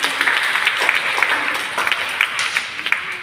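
A church congregation bursts into applause during a sermon. The clapping is a dense, sustained patter at moderate loudness from many hands, with no clear speech.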